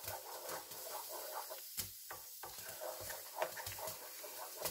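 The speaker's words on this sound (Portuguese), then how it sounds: "Vai mexendo agora até dar o ponto, tá?" Vatapá being stirred in a cooking pot, a thick paste scraped and churned with soft repeated strokes and light sizzling, fairly quiet and close, with no voices.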